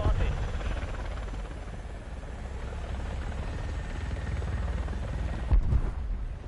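Heavy helicopter in War Thunder, a steady loud rotor and engine drone running continuously throughout with a brief bump near the end; no talk over it.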